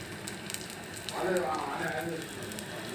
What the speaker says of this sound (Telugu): ఇట్లా పెనం మీద వేసుకొని రెండు వైపు రెండు వైపులా కాల్చుకోవాలండి